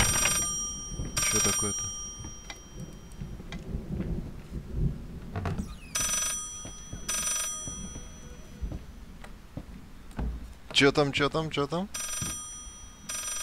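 Old telephone in the horror game Layers of Fear ringing in repeated bursts amid eerie game ambience and rumbling, with someone talking over it.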